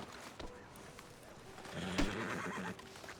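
A horse in Red Dead Redemption 2 whinnies loudly near the middle, set amid faint hoof clip-clops and soft ambient outdoor noise, with no speech.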